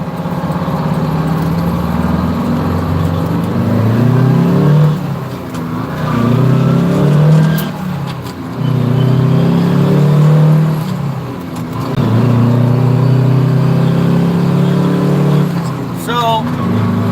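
A car engine drones steadily while driving down a dark driveway, a loud continuous rumble with slight rises in pitch, heard under someone talking throughout.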